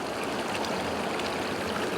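Water in Glen Etive pours down onto rock as a loud, steady rushing splash, continuous and close with no voices.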